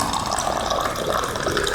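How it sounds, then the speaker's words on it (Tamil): Water pours steadily into a 200 ml tumbler in a continuous, close splashing stream with no talk. "இப்படி தண்ணி ஊற்றுறேன்."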